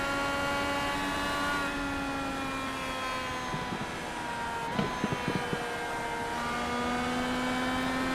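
Race car engine of the number 007 car in a racing series, heard from onboard as it hits turn three: a loud, sustained engine drone whose pitch dips slightly mid-corner, then holds steady.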